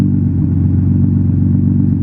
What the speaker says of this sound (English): I like how this thing idles.